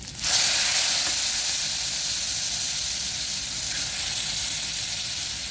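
Jackfruit curry with jackfruit seeds hits hot tempering oil with a sudden loud, sustained sizzle that hisses on steadily and alone.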